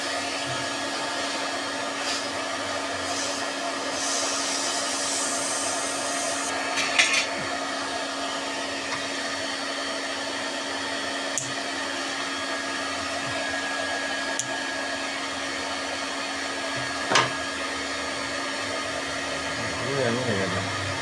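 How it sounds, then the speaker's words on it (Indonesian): Welding on a homemade mud separator, heard as a steady, continuous buzzing hiss that carries on unbroken for about twenty seconds, with a few faint clicks and taps and no talking. "Mari kita las."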